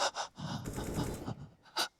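A frightened hostage in Counter-Strike breathes heavily, a few quick, close gasping inhales and exhales over roughly two seconds, fairly faint and with no one talking.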